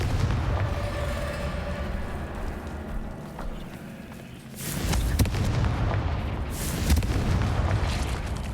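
Confringo blast spells cast in the Hogwarts Legacy video game: two heavy, booming fiery impacts a couple of seconds apart, loud and close, following a stretch of soft musical game backdrop with no talk.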